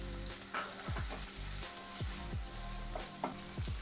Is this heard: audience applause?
no